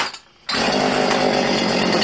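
A Homelite chainsaw or Poulan weed eater engine, choke pulled, catches after a brief near-silence and runs at a steady, loud, buzzing idle close by.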